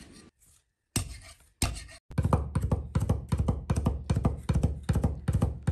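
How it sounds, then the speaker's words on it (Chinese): Knife smashing garlic cloves flat and then mincing them on a cutting board, a couple of heavy whacks followed by a rapid, steady run of loud, close chopping knocks. "准备几粒大蒜，用刀拍匀剁碎。"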